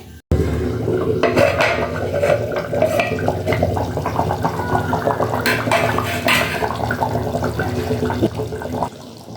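Chicken curry cooks in a clay pot on the stove. Loud clattering and scraping of the pot and its lid come up close and continue throughout, with no talk.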